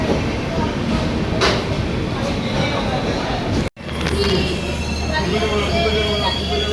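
A train rumbles steadily along the rails with wheel noise and a brief sharp break midway, then a low hum; voices talk faintly underneath.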